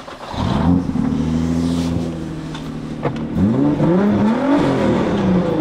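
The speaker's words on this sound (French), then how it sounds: "on va aller faire un petit tour avec la GTR" A Nissan GTR sports car engine on a short drive, heard up close and loud with steady droning tones that swell and shift in pitch as it revs and accelerates through gears.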